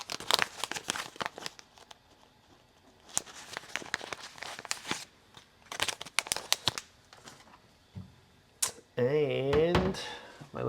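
Paper coffee filter for a pour over being handled, with crinkling and rustling bursts in several close, irregular clusters, followed by a brief louder, steadier sound near the end.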